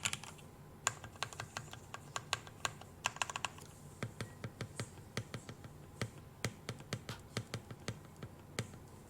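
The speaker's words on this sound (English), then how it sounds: "The GK65 is a very budget board, so I'm actually really surprised how this thing sounds." Budget GK65 custom mechanical keyboard with stabilized keys being typed on alone, a steady run of close, crisp clacks with a few faster bursts and louder single strikes.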